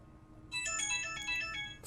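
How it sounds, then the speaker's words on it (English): A phone plays its Persona 5 text-message jingle as a ringtone, a short bright melodic chime that starts abruptly partway through and rings clearly over a quiet background. "You're just gonna hear my Persona 5, like, text message fucking jingle"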